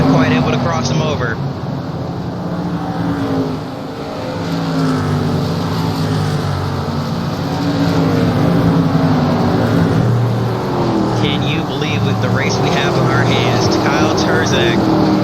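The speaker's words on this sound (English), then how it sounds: "As we catch a lap car down the back straightaway is Todd Bellinger" Modified race cars in a racing video game circling USA International, their engines droning steadily and shifting in pitch as they pass, with a commentator talking over the race throughout.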